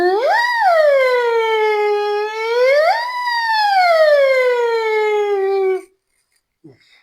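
Human voice imitating a police car siren, two loud close rising-and-falling wails that end abruptly, followed by a brief quiet moment.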